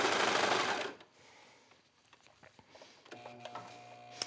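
A sewing machine stitches three fabric layers around curves, one brisk whirring burst up close, then slower, quieter clicking and ticking of the mechanism as the sewing eases off.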